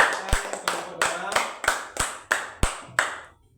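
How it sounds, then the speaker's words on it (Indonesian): A classroom claps in unison for a student group, about nine sharp, evenly spaced rhythmic claps, each ringing briefly before the next, ending in quiet. "Tepuk tangan untuk kelompok 2"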